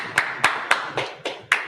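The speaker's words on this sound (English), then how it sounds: "Clap it up." Six sharp claps in an even rhythm, close and fairly loud, with brief decay between each.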